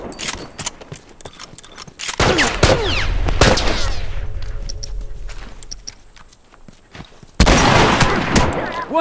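Gunfire from a firefight in The Last of Us Remastered, with sharp shots in bursts near the start, a heavy boom around two seconds, and another loud volley near the end, under occasional talk.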